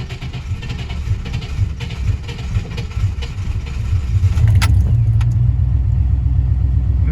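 A truck engine, recently repaired after sitting for about six months, cranks and fires up, then settles into a loud, steady rumbling run close by, with a deeper throaty drone taking over partway through.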